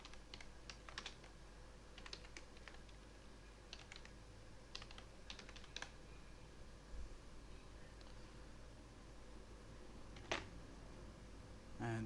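Quiet, irregular tapping of keys on a computer keyboard as an email address is typed, light clicks in short clusters with pauses between them.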